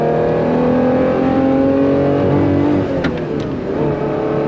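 A Ferrari Testarossa engine pulls hard under acceleration, its steady mid-range roar broken by a brief dip near the end as the driver shifts the manual gearbox before the engine note climbs again.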